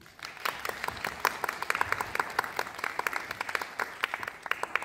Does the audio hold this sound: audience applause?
yes